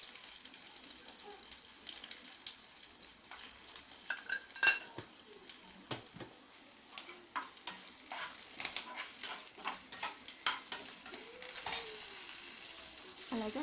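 Spices frying in a pan for a Telangana-style fish curry: a quiet, soft sizzle under scattered scrapes and clinks of a spoon stirring against the pan.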